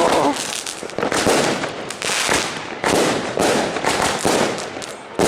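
A series of sharp firework bursts from a firework launcher in quick succession on New Year's Eve at midnight, loud and close, each a crackling bang, with brief gaps between volleys.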